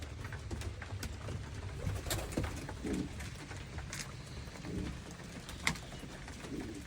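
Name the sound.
pigeons or doves cooing near newly hatched chicks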